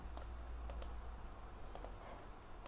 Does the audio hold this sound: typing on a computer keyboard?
yes